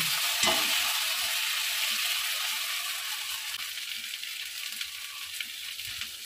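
Chicken sautés with cumin paste and green chili paste in a pan with a close, steady sizzle. A spatula scrapes and stirs through it, loudest at the start and easing slightly as it goes.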